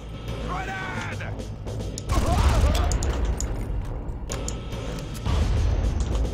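Grenades explode in the Far Cry video game, heavy crashing bursts amid clattering mechanical game noise, with a voice briefly heard at the start.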